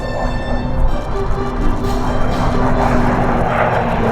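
A propeller-driven F6F Hellcat warbird drones past at an airshow, a steady rumbling engine roar at moderate distance with faint crowd or commentary noise beneath.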